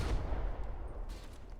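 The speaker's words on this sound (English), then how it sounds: "we can hear the mortars falling and detonating pretty far in the back" Distant mortar rounds falling and detonating in a naval battle video game, a low continuous rumble of far-off blasts with a few faint higher crackles, fairly quiet throughout.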